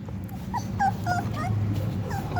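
Puppies infested with ticks whimper and yip in a string of short, high, thin cries close by, over a steady low rumbling background.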